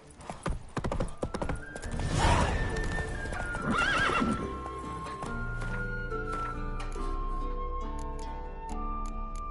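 Roach, the horse in The Witcher video game, lets out a loud neigh over quick clip-clop hoofbeats, then the galloping hooves continue steadily under game music.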